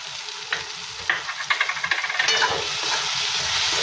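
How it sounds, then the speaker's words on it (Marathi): Ginger, garlic and chili paste sautéed in a pan for spicy eggplant bharit: a burst of sizzling with rhythmic stirring scrapes, settling into a steady close hiss. "हे छान असं परतवत घ्यायचं आहे"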